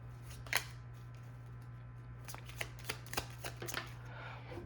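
A deck of oracle cards is shuffled close by in quiet surroundings, with soft riffling and a series of crisp snaps and taps spread through the stretch over a faint steady hum, and no one speaks.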